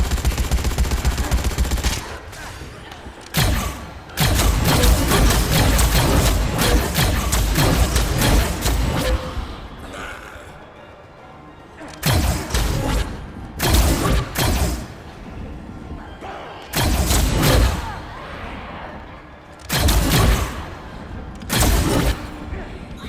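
Bursts of rapid gunfire from Dead Rising 4 come in repeated loud volleys separated by brief lulls, close and dense, with the shooting dominating the mix.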